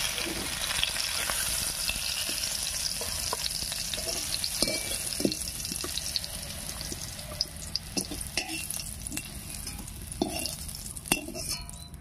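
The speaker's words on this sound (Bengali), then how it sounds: "আলু আর পটল ভাজা হয়ে বেশ সিদ্ধও হয়ে গেছে," Potato and pointed gourd pieces frying in oil in a pan, giving a dense, continuous close sizzle with scattered scraping and stirring knocks throughout, and no voices.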